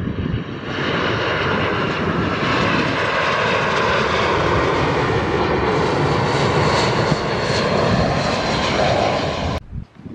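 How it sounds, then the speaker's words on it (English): A propeller airplane drones overhead while coming in near Palma, Mallorca, loud and steady for several seconds before cutting off abruptly, with no voices. "Look at that plane coming in."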